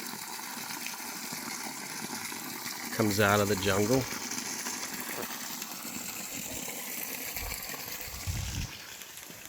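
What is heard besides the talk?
small waterfall and stream in Kauai botanical garden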